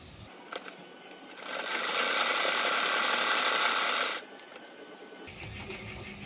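A sewing machine stitches a blouse in one fast, steady whirring run of a few seconds, framed by quieter handling clicks before and after.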